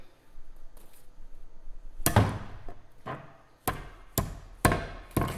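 Sharp metallic-wooden knocks as an axe head is hammered onto its handle, striking at irregular intervals, one heavy blow followed by several more, close and loud against a quiet background.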